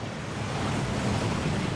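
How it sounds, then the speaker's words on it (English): A waterfall in the Hogwarts Legacy video game rushes in a steady, broad roar that stays loud and constant throughout, with no talking. "That waterfall washes away all enchantments."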